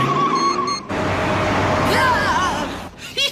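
A cartoon car speeds along with a steady engine roar and a brief squeal of tires, up close and loud, while voices and other cartoon sounds play over it.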